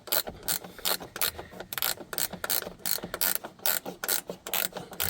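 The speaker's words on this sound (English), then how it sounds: "if you got a ratchet spanner or a normal one, you could just tie up with that" A ratchet spanner tightens a dash cam mount screw for a Thinkware Q850 in a 2019 Volvo XC90, with rapid metallic clicking in close, repeated bursts of strokes.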